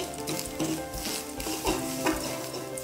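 Grated coconut frying in ghee in a pan while being stirred, a steady sizzle with scraping spoon strokes up close and no talking.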